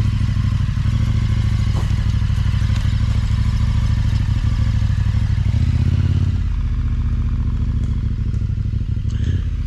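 Motorcycle on Mitas E07 tyres climbing off-trail uphill through trees, its engine droning loud and steady the whole way with rattles and knocks from the terrain, briefly surging midway.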